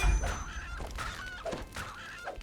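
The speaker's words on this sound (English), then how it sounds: "Dire petrels." Dire petrels, tough birds in a fantasy role-playing video game, give harsh squawking calls in several short bursts, close and fairly loud, with no talk over them.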